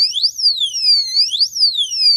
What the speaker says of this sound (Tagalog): hahawakan ang motor so magtutunog itong alarm base lock alarm